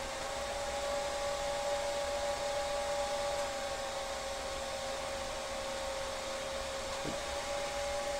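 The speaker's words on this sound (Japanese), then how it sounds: "こういう感じで、ドライヤーを使ってやれば結構綺麗に取れます。" A hair dryer blows hot air onto a new product's packaging to soften and lift stubborn adhesive, giving a steady, close whirring hum with a constant whine that runs unbroken for the full stretch.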